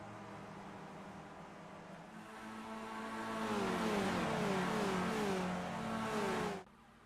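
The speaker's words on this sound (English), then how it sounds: "Give me a little bit of time to appreciate the engine of the Formula 1600." Formula 1600 race car engine in a racing game at Virginia International Raceway: a steady engine hum swells into a loud rising rev with climbing gear tones, holds for a few seconds, then cuts off abruptly, with no talking.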